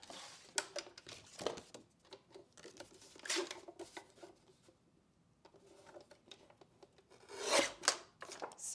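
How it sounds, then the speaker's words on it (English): A paper trimmer slices through craft paper for a holiday gift box. The soft scraping rasps come in several short strokes, fairly quiet and close, with no one speaking. "So we're going to trim this off at 8"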